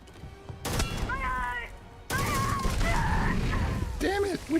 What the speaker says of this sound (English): Stop shooting that thing.